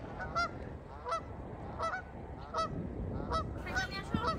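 Large cranes at Blackstrap Lake give loud, honking trumpet calls, about six in a row at a steady pace, over a constant breezy rush of wind through grass. No one speaks.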